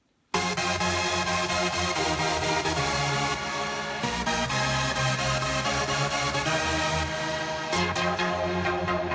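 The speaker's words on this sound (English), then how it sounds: "it's not a software instrument, it's a hardware synthesizer" A thick, distorted synth lead playing a dense, sustained melody with a gritty overdriven edge, loud and continuous with no voices.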